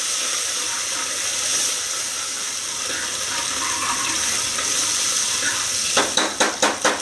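Misal curry base with curry leaves and coriander sautéed in hot oil, giving a steady hissy sizzle throughout, then several sharp clinks of a spoon against the pan near the end.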